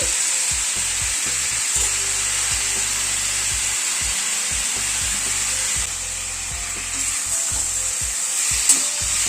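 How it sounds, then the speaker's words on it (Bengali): Yogurt gravy hits a pan of drumstick curry over a low gas flame, producing a loud, steady sizzle and hiss close up, with a low intermittent hum pulsing underneath. "এবার দইয়ের গ্রেভিটা দিয়ে দিচ্ছি।"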